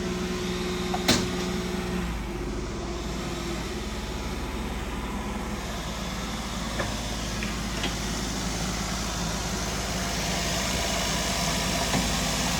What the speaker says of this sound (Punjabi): ਬਿਲਕੁਲ ਸਾਇਲੈਂਟ ਜਿਹਾ ਇੰਜਣ ਹੈ